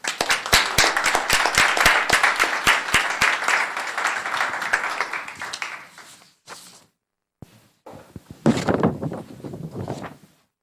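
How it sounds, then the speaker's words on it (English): A round of applause at a Los Gatos town council meeting, crisp individual claps from a modest crowd for several seconds that fade out, followed by a short silence and a brief burst of noise. "And another round of applause"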